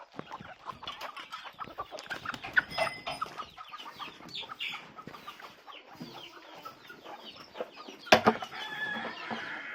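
Hens and their chicks cluck and peep on a rural indigenous goat farm, with a busy run of overlapping calls close by and a louder squawk near the end.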